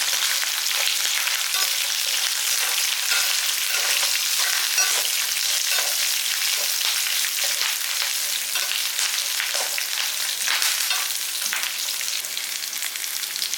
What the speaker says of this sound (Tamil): எல்லாத்தையும் சேர்த்து நல்லா வதக்கி விடுங்க